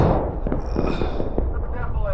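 Scattered musket volleys and individual shots crack across the battlefield in War of Rights, distant and overlapping under a player giving commands.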